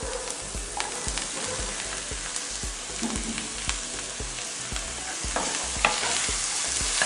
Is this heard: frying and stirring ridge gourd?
yes